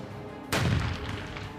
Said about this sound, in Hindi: बमों के धमाके और मशीन गन से निकलने वाली हर गोली